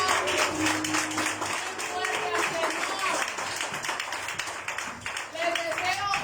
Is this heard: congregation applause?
yes